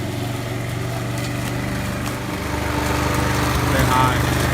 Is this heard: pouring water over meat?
no